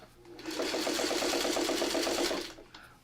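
A sewing machine stitches a beehive pattern in one close, steady run of rapid needle pulses lasting about two seconds. It starts and stops cleanly, and there is a brief knock at the end.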